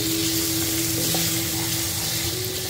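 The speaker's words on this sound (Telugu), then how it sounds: "ఆనియన్స్ని ఆయిల్లో కాసేపు వేయించి అల్లం వెల్లుల్లి పేస్ట్ వేస్తాను" Onions frying in oil for a chicken curry, a loud, steady, close sizzle with a faint hum underneath and no talking.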